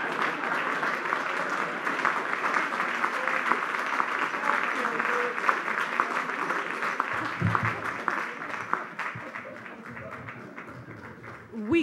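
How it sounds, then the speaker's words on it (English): Sustained audience applause following a lecture on religion and ecology, steady and dense for most of the stretch before thinning out near the end, with some voices mixed in. "one more round of applause for Professor Tucker"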